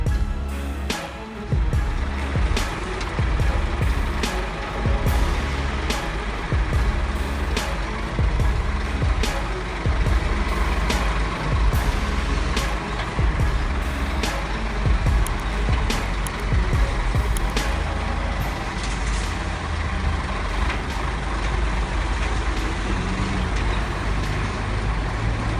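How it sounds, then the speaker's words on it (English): Heavy trucks grind through a narrow street, a loud, low, continuous engine rumble with repeated sharp clicks and clanks, reversing beeps and bursts of air brake over the drone. "trucks keep coming, like GPS is leading them straight into a trap"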